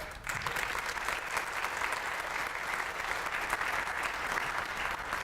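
An audience at a 2014 community address on Northern Manhattan and Marble Hill applauds a colleague, with dense, steady clapping that fills the room for several seconds.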